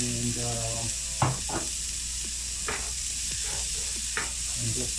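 Onions fry over low heat in a pan for a Rwandan spinach beef sauce, a continuous sizzle broken by several sharp scraping stirs, with a brief musical tone at the start.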